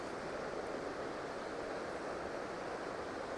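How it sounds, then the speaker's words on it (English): Water rushes steadily at Lock 60 in Schuylkill Canal Park where a stream meets the canal, a constant, even hiss of flow that sounds fairly close and soft, with no voices. "Take out my receiver for a minute here so you can hear the water."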